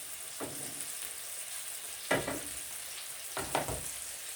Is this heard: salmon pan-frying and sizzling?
yes